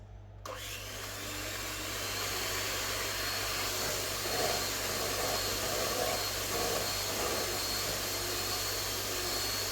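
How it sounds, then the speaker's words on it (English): An electric hand mixer running steadily on high speed whisks egg whites for a lemon meringue roulade, a loud continuous motor whir starting abruptly and holding throughout with no talking. "we're going to put our mixer on high to start off the egg whites"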